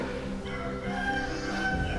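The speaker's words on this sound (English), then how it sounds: "we got the rooster in the back" A rooster crows at a distance in Canggu, Bali, faint and drawn out beneath a steady hum of background noise.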